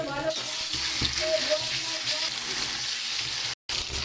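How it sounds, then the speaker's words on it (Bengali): Katla fish pieces frying in hot oil over a low gas flame make a continuous hissing sizzle with a few soft spatters, cut by one brief dropout near the end. "এবার আমি গ্যাসের আঁচটা লো করে দিয়ে মাছগুলোকে তেলের মধ্যে ছেড়ে দেব ভাজা হওয়ার জন্য"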